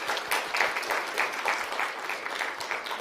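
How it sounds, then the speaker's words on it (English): Steady applause from an audience of conference attendees at a keynote in Tokyo, dense clapping at moderate distance with no talk over it. "Big round of applause"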